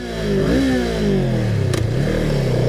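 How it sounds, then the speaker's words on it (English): A 2017 Honda Rebel 500 twin-cylinder motorcycle accelerating onto a freeway, its engine note rising through a gear change with a brief drop and then climbing again, loud and close under wind noise. "we're about to jump on the freeway for a little freeway action on the Honda twin-cylinder Rebel 500"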